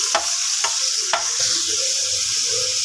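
Chicken pieces frying in hot oil until browned, giving a steady close sizzle with a few sharp scrapes of a spoon stirring early on.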